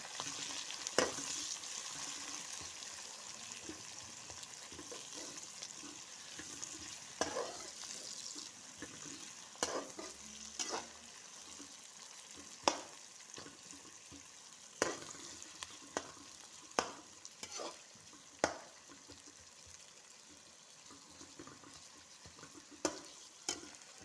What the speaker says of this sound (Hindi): अब हम इसमें प्याज फ्राई करने के लिए डाल देंगे और प्याज को फ्राई करेंगे